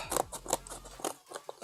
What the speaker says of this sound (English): he cuts the cardboard with scissors